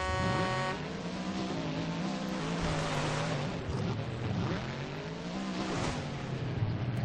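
Big-turbo mud truck engine roaring during a drag race, a loud sustained rising engine note with gear-change dips, continuous and close.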